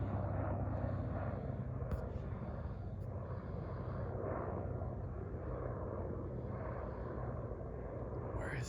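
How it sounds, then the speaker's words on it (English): A helicopter flies over a ranch, its rotor and engine making a loud, steady rumbling drone that runs unbroken from start to finish. "here comes the helicopter"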